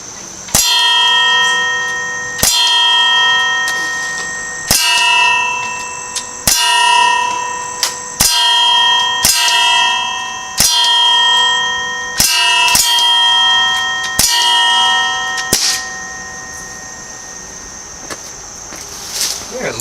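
Airgun pellets striking an Air Venturi metal gong target, about nine sharp clangs spaced roughly every one to two seconds, each ringing on with a bright metallic tone before fading.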